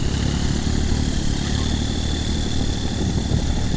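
Turbocharged three-cylinder engine on a Thai long-tail boat, comparable to an excavator or tractor diesel, runs loud and steady at close range with a constant rumbling drone throughout.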